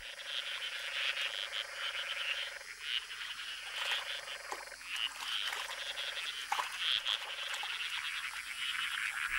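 Hundreds of golden frogs gathered at small ponds in Madagascar's dry forest, croaking in a dense overlapping chorus of short repeated calls that rise and fall steadily with no voices present.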